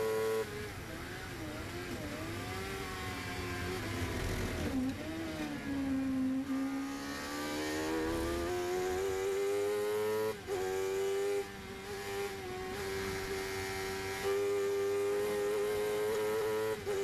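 Sports car race engine lapping Snetterton 300 circuit during a race, heard from onboard, revving up and down through gear changes with rising and falling whines and brief dips between shifts, loud and continuous.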